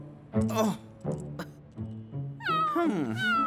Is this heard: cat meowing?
yes